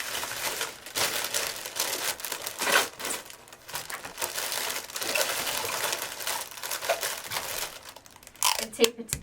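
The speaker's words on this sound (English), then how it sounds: "Once you're finished, wrap it up." A box of roses being wrapped in paper, with continuous crinkling and crumpling close by, broken by short rustling bursts and a few sharper crackles near the end.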